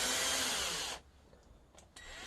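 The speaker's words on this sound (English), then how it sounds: "So now I'm just going to start to spin the drill." An electric drill spins to twist the conductors of a power cord together. It whirs loudly and steadily for about a second, then stops, leaving short quiet gaps and a brief restart near the end.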